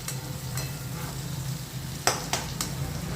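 Tomato and onion fry together in a pan over a high gas flame, giving a steady close sizzle with a low hum underneath and a few sharp clinks or pops toward the end.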